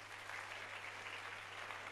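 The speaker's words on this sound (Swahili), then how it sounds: "Tupatie Yesu makofi" A church congregation applauding for Jesus, a faint, even wash of distant clapping over a low steady hum.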